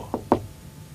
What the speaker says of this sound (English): They banged on his front door